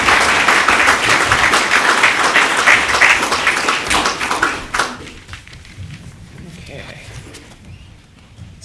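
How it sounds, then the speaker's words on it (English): Audience applause at a county candidates forum, a full round of clapping with voices underneath for about five seconds before it drops off abruptly to quieter room noise and murmur. "Give them a nice round of applause."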